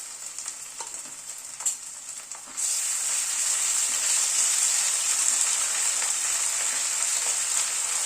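Ginger, garlic and green chili paste hitting hot oil with onions for a mutton curry, a few faint clinks before the sizzle jumps up loudly and holds as a steady close hiss.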